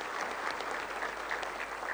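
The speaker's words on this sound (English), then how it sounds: "So I think they deserve a huge applause." Steady applause from a conference audience in Shillong, Meghalaya, a continuous patter of many hands clapping at moderate distance, with no voices over it.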